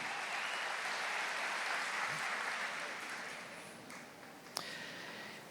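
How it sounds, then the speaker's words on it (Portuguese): A congregation at a Catholic talk on families in mission claps, producing a sustained even wash of applause that slowly fades, with one sharp louder clap near the end. "Merecem a salva de palmas"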